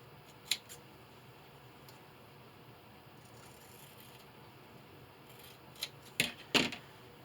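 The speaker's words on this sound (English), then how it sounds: "And now with my scissors, I'm going to cut," Scissors snip through fabric for a mirrored heart table runner, a few crisp cuts, one early and a quick cluster near the end, close and quiet over a faint steady background.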